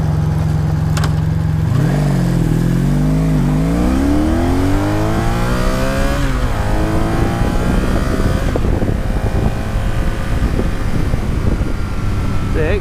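1983 Honda Sabre VF750S motorcycle accelerating, its engine pitch climbing through the gears with a loud, steady roar and rising harmonics, heard close up over constant wind noise.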